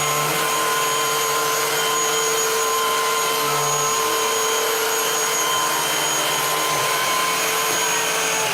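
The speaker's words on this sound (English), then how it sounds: "I have the Kenmore and the Shark vacuum here." Kenmore and Shark Vertex cordless vacuums run on their highest speed over a carpet strewn with protein powder and popcorn, a loud, steady, high-pitched motor whine throughout.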